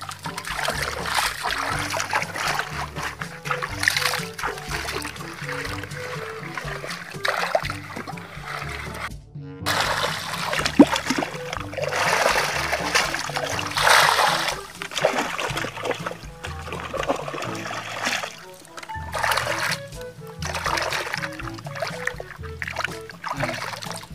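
Freshly caught freshwater clams being washed in water, with steady splashing, trickling and swishing close by, continuous with brief pauses and no talk.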